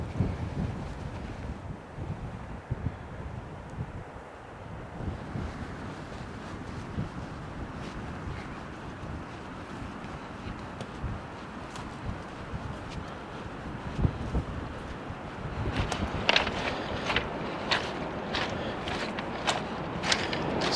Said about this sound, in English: Hopefully it's not going to be too windy because I will be walking into the wind along the beach.